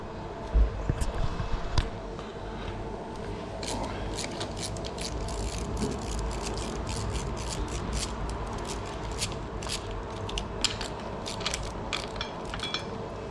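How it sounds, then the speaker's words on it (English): A brake caliper comes off a Yamaha Ténéré motorcycle with a run of close, sharp metallic clicks and clinks over a low, steady background. "Remove the brake caliper"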